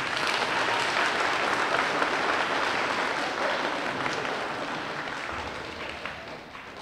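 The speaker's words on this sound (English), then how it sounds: "a round of applause" Audience applause at a school D.A.R.E. event, steady dense clapping that fills the room at close range and tapers slightly toward the end, with no talk over it.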